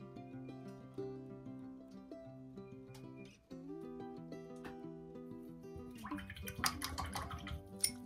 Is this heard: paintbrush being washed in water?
yes